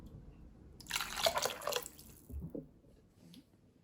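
Golden broth for Ukrainian kholodets aspic is poured into a dish, a brief close splashing gush of liquid lasting about a second, then fading into a few soft drips and trickles.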